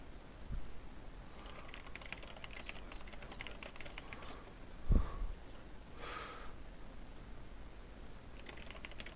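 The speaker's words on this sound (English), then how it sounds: "That's me typing." Faint, quick key clicks from someone typing on a computer keyboard at a home trading desk, soft and scattered against a quiet room hiss, with a brief breathy snort midway.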